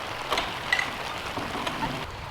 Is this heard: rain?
yes